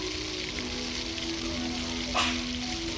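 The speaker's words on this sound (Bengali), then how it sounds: "দেখো কষিয়ে নিচ্ছি, যখন একটু তেলটা ছাড়বে তারপরে সোয়াবিনটা দিয়ে ফ্রাই করা হবে" A spice paste sautéing in hot oil, a steady close sizzle running throughout, with a brief sharper crackle near the end; no one speaks.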